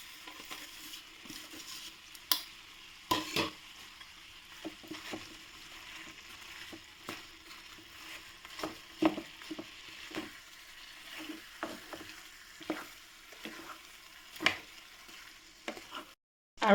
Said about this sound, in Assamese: এতিয়া দি দিছোঁ এয়া গুড়খিনি। এইখিনি গলিব লাগিব।